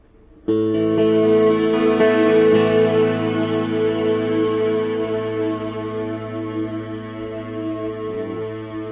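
A sustained, shimmering electric guitar chord through a Strymon Cloudburst reverb pedal with lush reverb and a chorus-like ensemble swirl, starting abruptly and slowly decaying over several seconds.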